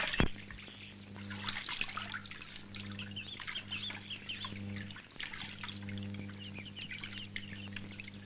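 Steady water pouring and splashing while people wash a car together outdoors, a continuous close trickle and spatter running throughout with faint birdsong and scattered small knocks, no talk.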